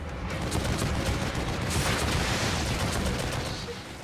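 Turret machine gun in The Evil Within, chapter The Ride, firing in a steady, dense, continuous stream for the whole stretch, loud and close with no pauses.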